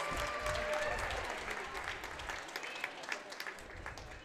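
An audience applauds at a professional ballroom dance competition, a steady wash of clapping from a crowd that fades slightly, with a host speaking over it.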